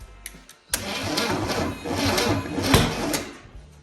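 A Chevy 230 inline six engine, idle for 35 years, cranks over sluggishly with a loud, continuous rhythmic churning from the starter that never catches, close by and alone.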